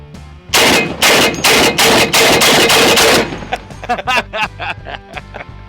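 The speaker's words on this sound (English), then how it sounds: "Time to shoulder fire this big heavy bitch." An AK-50 large-calibre rifle fired from the shoulder unleashes a rapid burst of loud, booming shots close by, followed by several scattered echoing reports and faint voices.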